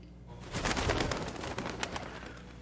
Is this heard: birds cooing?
yes